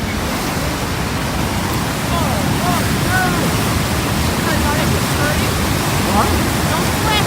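A huge waterfall rushes in a steady, loud, unbroken roar that fills the whole clip.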